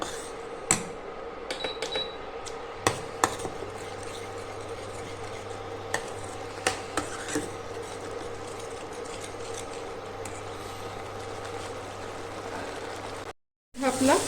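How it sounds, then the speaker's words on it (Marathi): Onion and tomato paste sautéing in a pan, a soft continuous sizzle broken by scattered clicks and scrapes of stirring, close and fairly quiet, with a low hum beneath and a brief dropout near the end. "ह्याला आता आपण चांगली परतून घेऊया"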